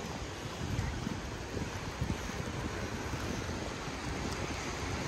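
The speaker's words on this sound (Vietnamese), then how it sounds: "mùa này gió mỗi lúc mỗi khác, có khi mới bước xuống à, gió hiu hiu à, lát nữa gió nó lớn lắm" Wind blows across an early-morning beach where people are digging for clams, a steady broadband rush with light gusts and faint surf underneath, no voices.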